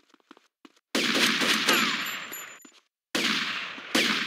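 Gunfire from the video game GTA Vice City: loud, dense bursts of rapid automatic shots in two main stretches separated by brief silence, with a few faint pops before.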